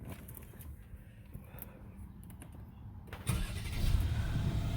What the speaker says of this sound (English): I'm about to start the car